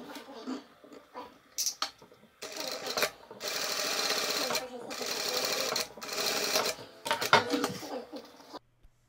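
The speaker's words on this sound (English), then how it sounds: "and stitch down the back of the heel." A sewing machine stitches the back heel seam of outer sneaker pieces in short and longer runs of rapid mechanical whirring, close and clear, with pauses where someone talks.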